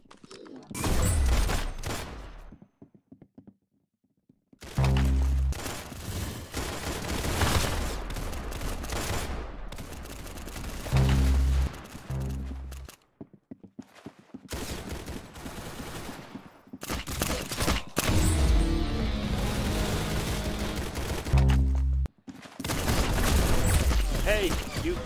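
Gunfire in the shooter game Arsenal comes as loud repeated bursts of rapid shots separated by brief silences, fairly close and dominant, with some talk mixed in.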